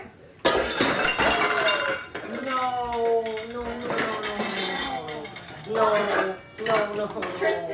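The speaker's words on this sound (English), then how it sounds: "I broke Mom's bowl" A glass bowl breaks in a home kitchen by the dishwasher, a sudden loud crash followed by clinking shards and rattling dishes, with people talking over the aftermath.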